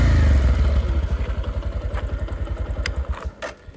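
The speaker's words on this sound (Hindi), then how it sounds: "जब मैं इसको थ्रोटल दूंगा तो कुछ इस प्रकार साउंड आएगा" A Bajaj Platina motorcycle engine revved with the throttle, a loud close putter that rises then settles into rapid rhythmic pulses before tapering off near the end.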